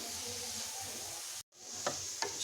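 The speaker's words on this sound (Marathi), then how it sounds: "छान असं व्यवस्थित आपण सगळं मिश्रण, सगळं गाजरचा किस आहे ना तो आपण छान व्यवस्थित मिक्स करून घेऊया।" Grated carrots being sautéed and stirred in ghee, a soft steady frying hiss that cuts out briefly, then returns with a couple of scraping stirs, fairly quiet and close.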